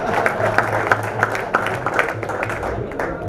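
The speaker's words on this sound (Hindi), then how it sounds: "इस बार तालियां बजाओ।" An audience at a Hindi comedy show claps steadily, a dense, sustained patter of many hands with a low hum and a few voices underneath.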